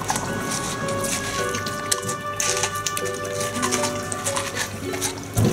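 A large Labradoodle dog chews watermelon close up, wet crunching and juicy squishing bites in an uneven rhythm, with faint tonal background sounds and occasional light drips.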